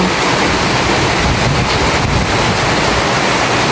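Strong wind roars continuously into the microphone outdoors, a dense steady buffeting with no pauses.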